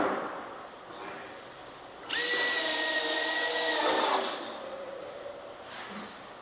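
Power drill driving a screw into a ribbed metal shed panel, one steady whining run of about two seconds at close range, with quieter handling noise before and after.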